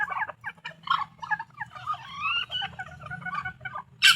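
White Leghorn hens clucking and calling in a busy, overlapping flock, with several close birds giving rapid bursts of clucks and squawks over steady low background noise.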